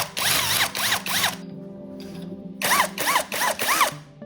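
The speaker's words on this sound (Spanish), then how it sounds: "Y perforamos con una broca de 1/4." A power drill whirs in repeated short bursts while boring holes with a 1/4 inch bit, close and loud, with a quieter gap in the middle before more drilling resumes.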